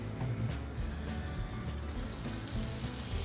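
Meat prepared the night before sizzles steadily in a hot, dry pan with no oil while cooking Iskender kebab at home, a continuous close hiss that grows brighter toward the end.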